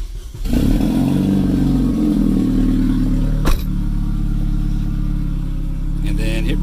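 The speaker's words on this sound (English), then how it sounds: "and then we'll start the car." A car engine cranks and catches after a short pause, then settles into a loud, steady running drone up close, with one sharp knock midway.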